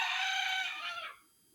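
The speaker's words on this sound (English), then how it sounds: "hear the rooster" A rooster crows in Jamaica, one loud, clear, close call held for about a second before it cuts off into quiet, with no voices over it.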